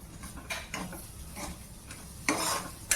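Paneer bhurji stirred in a pan, a spoon scraping and clinking in several uneven strokes, with a louder scrape near the end over a low background hiss.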